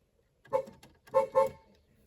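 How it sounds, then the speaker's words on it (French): Horn of a 1979 Peugeot 305 1.3L GR car sounding in three short honks, the second and third close together, fairly near and clear with no talk. "Petit test du klaxon également, qui est très mignon."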